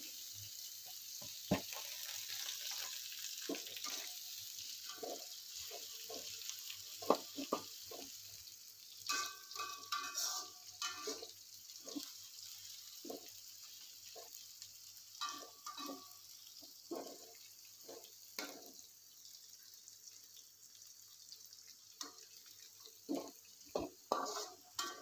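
Dried shrimp (ebi) stir-fried in a pan, a steady faint sizzle with repeated scraping and clacking of a spatula at an irregular pace, no voices.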